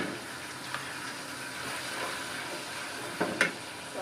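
Spice powders tipped onto ginger and garlic frying in a pan for biryani crackle with a continuous sizzle, broken by a few sharper pops and scrapes toward the end.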